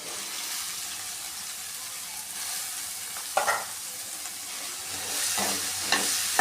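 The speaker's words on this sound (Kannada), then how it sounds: "ಸ್ವಲ್ಪ ಹಾಗೆ ಬಾಡಿಸ್ಕೊತಾ ಇದ್ದೀನಿ ಇದನ್ನ ಹೂಕೋಸನ್ನ ಎಣ್ಣೆಯಲ್ಲಿ" Cauliflower florets sautéing in hot oil in a pan give a steady, close sizzle, with brief clinks and scrapes of stirring around the middle and near the end.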